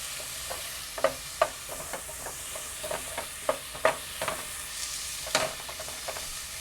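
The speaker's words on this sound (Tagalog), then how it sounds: "Just saute it hanggang sa medyo mag-brown siya." Ingredients sauté in a pan for homemade lasagna, with soft frying sizzle under repeated clinks and scrapes of a utensil stirring, all fairly quiet.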